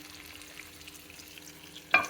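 Fish frying in a pan for an Andhra-style fish fry: a soft continuous sizzle, then a sudden louder clatter right at the end.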